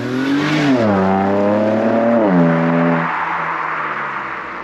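A BMW M2 Competition's engine revs and shifts, its deep harmonic note rising, dropping and climbing again before easing off, loud and close throughout.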